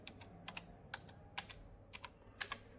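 Rapid, crisp key taps on a computer keyboard while entering parts into circuit-design software, a close, irregular run of about a dozen clicks with no talking.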